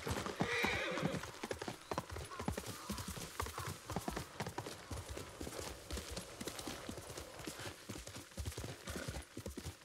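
Rapid, rhythmic hoofbeats of a galloping horse in the video game Ghost of Tsushima pound continuously, with a horse's neigh near the start, all loud and close.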